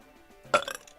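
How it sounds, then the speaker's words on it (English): A single short, loud belch erupting abruptly after a quiet moment, guttural and rough, fading within a fraction of a second. "Just at the belch."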